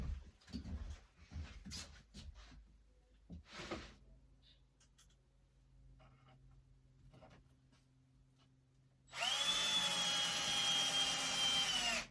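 A cordless drill set to low torque drives screws into a wooden collector display panel: scattered handling clatter and taps, then one loud, close, steady motor whine lasting about three seconds at the end.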